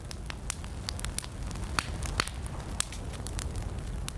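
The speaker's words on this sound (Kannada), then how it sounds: "ನಮ್ಮ ಸ್ನೇಹಿತರು ಬೆಂಕಿ ಬೇರೆ ಹಚ್ಬಿಟ್ರು" Campfire burning at night in desert sand, with scattered sharp crackles and pops over a steady low rustling roar, fairly close and moderate in level.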